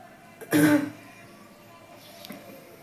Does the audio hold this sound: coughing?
yes